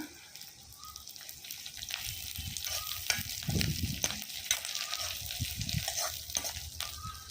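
Curry leaves sizzle and crackle in hot ghee on a wood-fired clay stove, sharp popping bursts rising over a steady frying hiss, close and fairly quiet.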